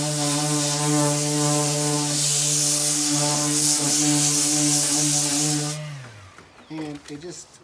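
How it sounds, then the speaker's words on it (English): An electric sander works over a wooden drawer from a French bedroom set, a steady droning hum with rubbing grit noise that runs for several seconds, then winds down and stops. "with my sander, it makes it a lot easier because all it is I'm just pushing down"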